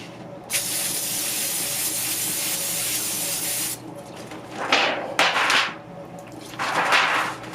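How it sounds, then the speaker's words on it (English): Cooking spray hisses onto pizza pans in a home kitchen, one long steady burst of about three seconds followed by three shorter bursts, loud and close with no talking. "We're going to go ahead and spray them."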